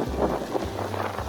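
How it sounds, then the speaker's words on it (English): Wind gusts across a Dorado beach in Puerto Rico, buffeting the microphone with a low, fluttering rumble for a moment, with no talk over it. "it's windy"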